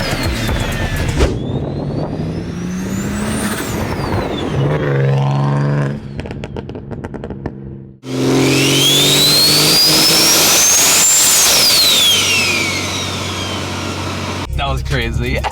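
A modified BMW engine revs hard and loud, its pitch climbing and falling through sweeping turbo-like whines, with a brief dip before another long high-pitched rev.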